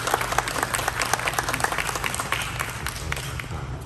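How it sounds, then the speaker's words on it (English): Loud, sustained audience applause at a live crown-unveiling event in New Orleans, a dense wash of many hands clapping close by at an even level throughout. "A big round of applause for."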